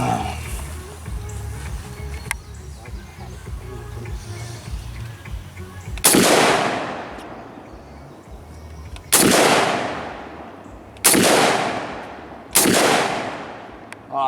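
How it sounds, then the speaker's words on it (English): Four loud rifle shots at clay pigeon targets outdoors near a hay bale and a metal barrel, fired one at a time at uneven intervals of a few seconds, each with a sharp crack and a long ringing decay after a stretch of quiet ambience. "got clay pigeons set up there. The yellow I'm going to try and shoot all 4 of them"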